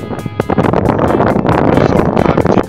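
Gusty wind buffets the microphone in rapid, rough bursts, loud and close throughout, with no voices.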